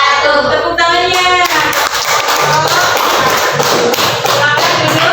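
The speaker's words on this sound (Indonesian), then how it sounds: "Tepuk tangannya." Audience claps after a group's classroom presentation in a teacher-training session, dense clapping and tapping throughout, with a voice briefly heard at the start.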